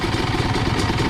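A motorcycle engine being warmed up, producing a loud, steady, close rumble throughout the short stretch with no distinct rev peaks.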